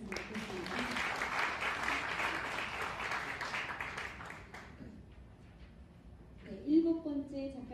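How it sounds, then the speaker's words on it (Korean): An audience at a textbook forum event applauding, dense clapping for about five seconds that tapers off, followed by a voice starting to speak. "다시 한번 박수로 격려해 주셨으면 좋겠습니다."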